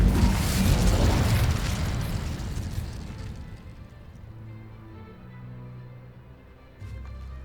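Incendio fire spell cast in Hogwarts Legacy, a loud roaring burst of flame at the start that fades over several seconds into a low rumble, with a faint thump near the end.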